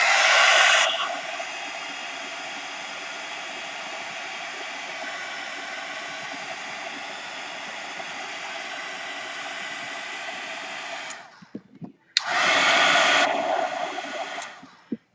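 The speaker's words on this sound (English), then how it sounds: "I'm hitting it with a dryer because I kind of want to dry the ink" A hair dryer drying ink blows with a steady, loud whooshing roar, cuts off briefly, then starts up again at full strength.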